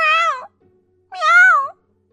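A cat gives two clear, loud meows close by, each about half a second long with a pause between them, heard alone with no other sound.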